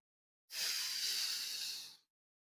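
A single long, steady exhale of breath held for about a second and a half during a pelvic floor exercise, close and clear, with no talking.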